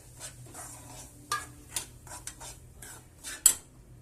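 Semolina (rava) tipped into a pan and stirred with a spoon while making apple kesari bath, heard as scattered scraping clinks and rubbing against the metal, fairly quiet and close.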